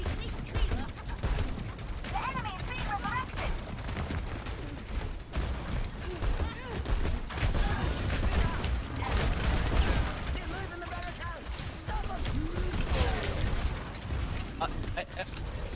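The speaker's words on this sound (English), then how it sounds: "He's shooting at you." Rapid bursts of video game gunfire crackle through a busy mix, with overlapping shots and mechanical effects sitting under and between voices talking throughout.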